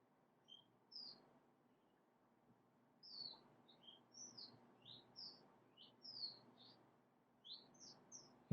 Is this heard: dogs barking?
no